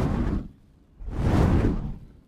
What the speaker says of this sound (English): I grabbed a series of flame whooshes from the Odyssey Collection